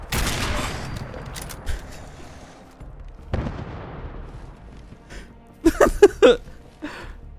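Gunfire in a Fallout game: an opening volley fades, another burst follows midway, then a quick cluster of sharp, fairly loud shots lands near the end amid otherwise quiet ambience.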